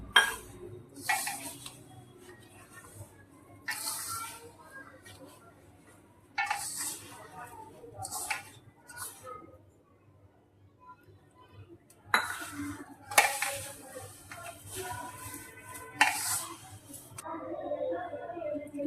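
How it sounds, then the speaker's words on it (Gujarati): Rava ladoo dough is kneaded by hand with water in a pan, giving intermittent soft handling noises and light metallic clinks in irregular bursts, close and moderately loud. "એમાં થોડું થોડું પાણી નાખીને લોટ બાંધતો જાઓ"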